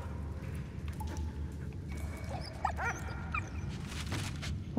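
Dog whimpering with a few short yips and barks in the World War I video game Valiant Hearts, set against a steady low rumble of game ambience, the dog sounds moderately close and intermittent.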